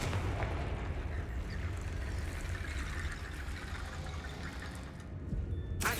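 A Confringo fire spell in Hogwarts Legacy lets out a dense, roaring burst that holds as a loud, continuous rumble for several seconds before a brief dip and a final surge.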